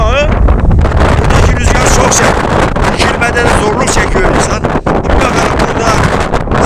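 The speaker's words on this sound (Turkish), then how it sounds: "Çok aşırı bir rüzgar var." Strong wind buffets the microphone in a constant loud roar, with gusty rumbling throughout and faint voices underneath, outdoors at Çiğdemlik village in Bayburt, Turkey.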